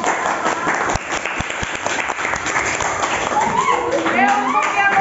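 A classroom group claps together in a brisk, dense burst of applause, close and loud, with children's voices chattering over the last couple of seconds.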